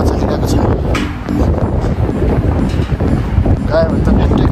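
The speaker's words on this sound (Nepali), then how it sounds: "यस्तो हावा चलिरहेको छ" Strong wind gusts across a steep mountain path, a steady broadband roar buffeting the microphone throughout, with a person talking over it.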